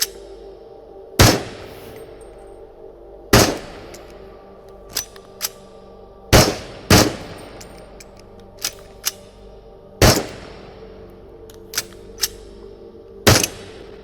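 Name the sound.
gunfire from a rusty gun in the video game Into the Radius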